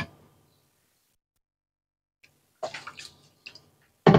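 Water poured into a bowl of cereal in short splashy bursts, close and fairly quiet, with silent gaps between pours.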